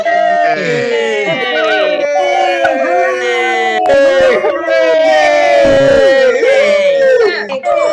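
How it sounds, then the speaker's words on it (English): Participants in a video call unmuting at once and cheering, a jumble of overlapping whoops, shouts and hoorays from many voices, loud and continuous throughout. "I would like everybody to unmute right now and give a huge cheer and hooray."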